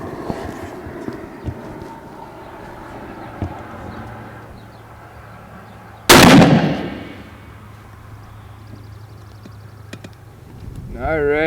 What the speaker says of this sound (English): let's fire one of these first spendy rounds downrange